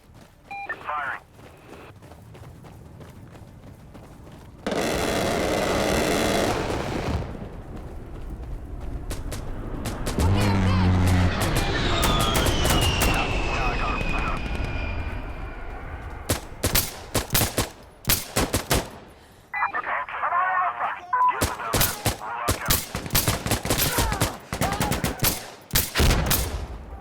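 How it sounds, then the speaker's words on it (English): A called-in air strike gun run in the video game Insurgency Sandstorm gives off loud bursts of rapid automatic fire, a rising and sweeping aircraft roar, and then scattered sharp shots. Radio voices talk over and between the bursts. "Station, this is Observer requesting a gun run at this target."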